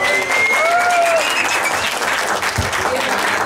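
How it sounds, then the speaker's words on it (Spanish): A crowd at a national assembly event for water and life in Mexico claps steadily and fairly loudly throughout, with a few whistle-like tones riding over the applause. "un aplauso más, por favor"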